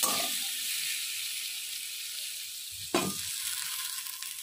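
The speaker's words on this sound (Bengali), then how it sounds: "যতক্ষণ না আলুটা সেদ্ধ হচ্ছে আমি এটাকে ঢাকা দিয়ে দিয়ে কষাবো" Potatoes with a fried spice mix cooking in a covered pan for aloo tarkari, giving a continuous soft hiss and sizzle with one sharp clank partway through, close, no voices.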